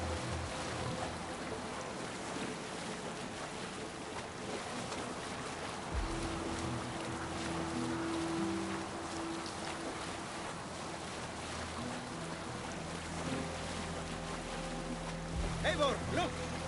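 Steady wash of water and wind around a sailing longship in Assassin's Creed Valhalla, a continuous rushing bed with soft lapping swells, and voices speak briefly over it.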